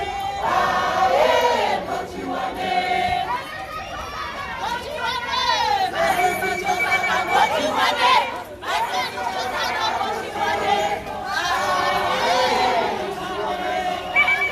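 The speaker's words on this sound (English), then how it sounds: "The crowd is chanting." Crowd of demonstrators chanting in unison at the High Commission in Botswana, loud rhythmic massed voices repeating a call continuously and close by, with a brief dip midway.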